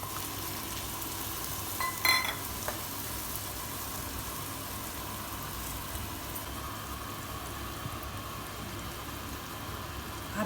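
Chopped onion frying in oil in a pan, a quiet continuous sizzle with a brief clatter of stirring near the start.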